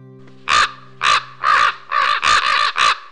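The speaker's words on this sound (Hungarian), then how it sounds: "hát repül is egyszeriben a holló" Raven caws as a sound effect in a Hungarian folktale: about seven loud, harsh, close calls in an uneven rhythm, heard alone with no talking.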